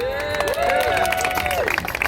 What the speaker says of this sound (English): Can we get a round of applause for our council member?